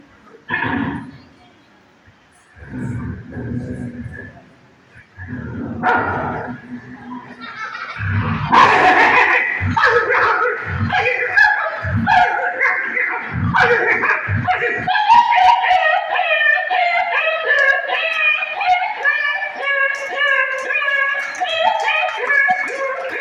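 On stage at a cultural festival, a voice imitates two dogs fighting: short yips and barks at first, then a sustained run of snarling, whining howls, loud and close.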